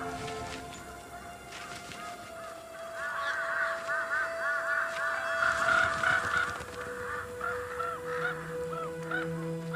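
Harsh, repeated bird calls rise in a noisy cluster midway through, near and fairly loud, with crows gathered at a tiger's meat carcass in the snowy Russian Arctic winter.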